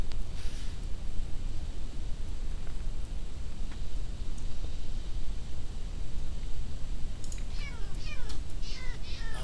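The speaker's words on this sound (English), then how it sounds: "I hate the noise that those cats make" Faint cat meows in a video game come and go over a constant hiss, with a cluster of higher mewing calls near the end.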